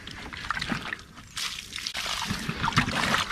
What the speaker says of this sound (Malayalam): നമുക്ക് ഇച്ചിരി വെള്ളം കളഞ്ഞിട്ട് കാണിച്ചു തരാവേ.